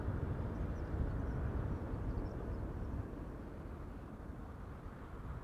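A jet airliner departs Amsterdam Schiphol Airport, its broad steady roar filling the air at moderate distance and easing slightly toward the end.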